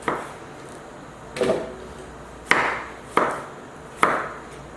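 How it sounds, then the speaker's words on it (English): Five knife chops roughly cut tomatoes on a cutting board at an uneven pace, each a crisp thud followed by a brief wet slide, close up. "chopping up some tomatoes, just roughly chopping them"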